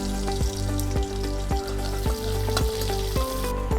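Shallots fry in coconut oil with popped mustard seeds, giving a loud, continuous sizzle close by, with a tonal hum running through it and soft regular clicks roughly every half second.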